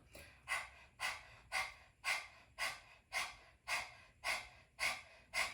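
Rhythmic rapid breathing, about ten sharp airy exhalations in quick regular succession, close up; a person imitating a dog's panting.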